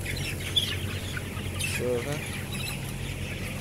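Soft clucking and scattered chirps from a crowd of chickens in a closed poultry house over a steady blower hum, with one louder call near the middle.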